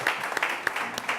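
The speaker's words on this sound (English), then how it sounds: "so give him a round of applause" An audience at a New York think-tank panel event applauds briefly, a short burst of scattered clapping heard from the room.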